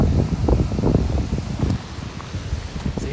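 Strong wind gusting at a dam in Llano, roaring and buffeting the microphone close up in continuous, uneven surges with no voice heard.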